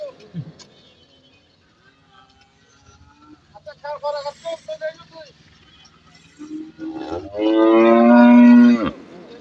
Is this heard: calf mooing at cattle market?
yes